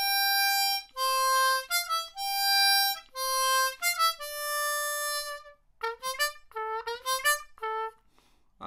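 A harmonica plays a short melodic passage from the Game of Thrones theme, then a quicker ornamental fill: clear, sustained reedy notes in phrases, played solo with no talking.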